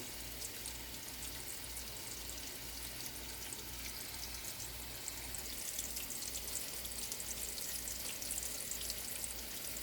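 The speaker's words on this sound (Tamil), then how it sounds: "சன்ஃப்ளவர் ஆயில் விடுறேன்" Sunflower oil pours into a pan, a continuous watery hiss and gurgle with a faint low hum underneath, steady throughout.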